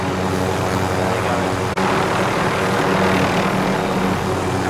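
A helicopter in a shooter video game gives off a loud, steady rotor and engine roar that fills the whole stretch, broken once by a brief dropout.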